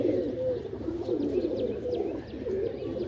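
Several pigeons coo steadily and close by in a soft, continuous murmur of overlapping calls, with faint higher chirps scattered through.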